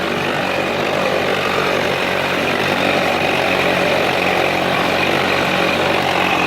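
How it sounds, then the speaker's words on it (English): A Mercury boat outboard motor runs steadily at a moderate rev, a constant loud drone with a slight rise in pitch, no voices. "I got it revved up just a little bit there."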